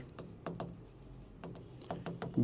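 Pen scratching on paper during handwriting practice, a series of short irregular strokes with brief pauses between them, close and fairly quiet.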